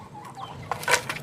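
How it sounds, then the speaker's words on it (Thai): A chicken gives a short burst of clucks close by, a brief sharp call near the end of a quiet moment with some light rustling. "ไก่"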